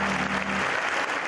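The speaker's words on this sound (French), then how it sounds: "C'est une minute d'applaudissements que les organisateurs ont choisie." A crowd applauds in tribute at a memorial for a motorcycle champion, dense sustained clapping that is loud and continuous from start to finish.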